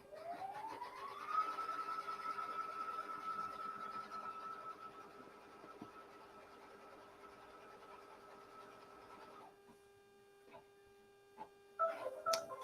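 An embroidery machine stitching fabric in the hoop starts with a rising whine, then holds a steady high hum with a fine rapid ticking underneath. It stops near the end, followed by a few clicks and knocks.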